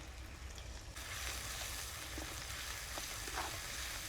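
Steady sizzling of chopped onions frying in hot oil with dried chillies and bay leaves, a dense crackling hiss with scattered pops, close and continuous throughout.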